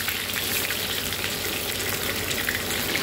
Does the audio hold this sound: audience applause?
no